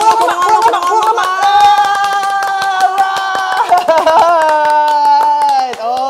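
Children clap in steady rhythm at a kids' church service, the sharp claps sounding under loud singing and music.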